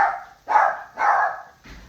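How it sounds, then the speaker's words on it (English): A dog barks three times in a row, fairly close, each bark sharp and short with brief pauses between them. "What are we barking at?"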